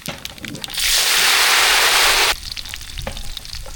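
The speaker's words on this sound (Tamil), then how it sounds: "கடுகு நல்லா புரிஞ்சிச்சு" Mustard seeds spluttering in hot oil, a loud steady sizzle and crackle that rises suddenly, holds for about a second and a half, then cuts off to faint kitchen clatter.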